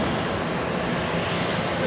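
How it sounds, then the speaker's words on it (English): An Austrian Airlines A320 departs Zurich Airport for Vienna, its jet engines producing a loud, steady broadband roar that holds evenly throughout. "Here we have an Austrian Airlines A320 off to Vienna."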